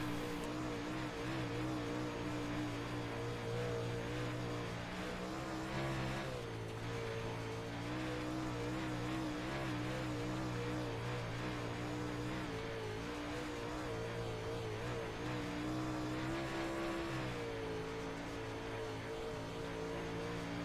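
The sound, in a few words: UMP modified race cars racing at Knoxville Raceway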